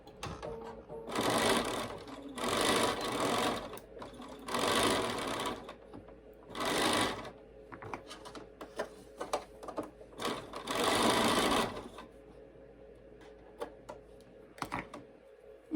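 Sewing machine stitching quilt block pieces together in several bursts of rapid mechanical whirring, each lasting about a second, with quiet handling noises between runs.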